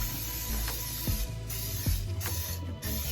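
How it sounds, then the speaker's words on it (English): Bursts of cooking spray hiss in short blasts onto a casserole baking dish against a steady background hum, with a few faint clicks and knocks of handling. "I'm going to spray my pan so my eggs do not stick"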